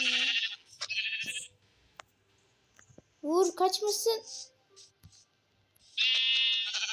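Several bleats from Minecraft sheep, electronic and game-like, come and go, while a person speaks briefly in between.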